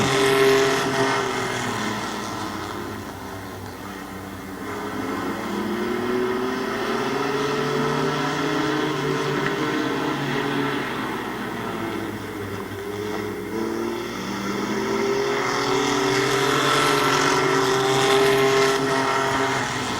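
Race trucks at Midvale Speedway circle the oval, their engines rising and falling steadily as they sweep past in waves, loud and continuous with no talk over the roar.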